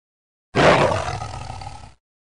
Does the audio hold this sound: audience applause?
no